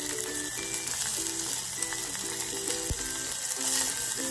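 Onion frying in a chili tempering, a steady sizzle with faint stirring and clatter, for a home-style dal fry. Close and even throughout, with a brief sharp knock near the middle and no talking.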